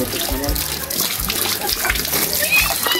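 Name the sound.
flowing water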